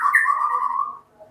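A tame white-rumped shama (murai batu) lets out a single clear, loud whistled note that holds for about a second and then fades, close by and alone.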